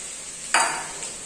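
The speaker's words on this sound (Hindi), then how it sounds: "अब आलू और कुंदरू फ्राई हो गई है" Potatoes and ivy gourd (kundru) fry in a pan. A sudden burst of sizzling is followed by a steady crackling hiss that slowly fades, with no talking.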